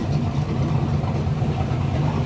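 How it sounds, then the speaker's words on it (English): A turbo diesel car idles steadily at an outdoor car show, a continuous low rumble with a faint mid-range clatter holding even and fairly close for the whole stretch, with no talk over it. "the turbo diesel."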